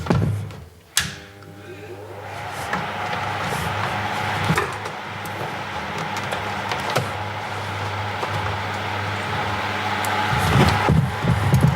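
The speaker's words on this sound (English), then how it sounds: "Sorry about the noise of the fan" Electric fan running steadily at a workbench during motherboard soldering, a constant droning hum with a low tone, joined by occasional bumps and clicks of handling.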